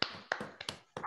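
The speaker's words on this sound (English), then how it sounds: "I suggest we all open our microphones and we clap for Filippo." Scattered, uneven hand claps from a small online audience clapping over open microphones, a handful of sharp taps with short gaps, close and fairly faint.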